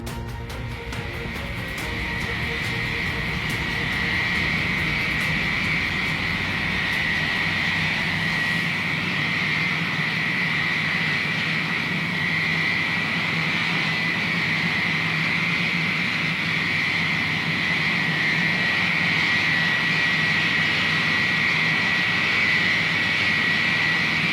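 A Stratojet jet bomber's engines roar on takeoff. The sound is loud and sustained, with a steady high whine over deep rumble that builds in the first seconds and then holds for over twenty seconds.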